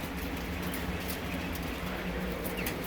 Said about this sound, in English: These birds here are actually mostly females, and they lay eggs